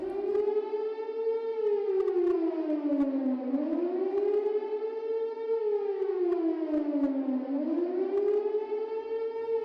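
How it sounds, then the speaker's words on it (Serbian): A civil defense air raid siren wails over Belgrade during the 1999 bombing, a loud sustained tone rising and falling in long slow sweeps, steady and unbroken throughout, with no voices. "Uskoro se čula i sirena."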